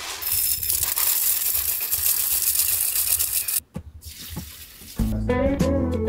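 Water poured into a Thermomix bowl holding bulgur gives a steady, loud rushing pour, broken by a short gap, and then a brief splashing burst.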